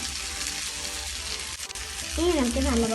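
Egg is poured into a hot pan for bread anda bhurjee and sizzles steadily, the frying hiss swelling louder near the end, while a voice talks over it.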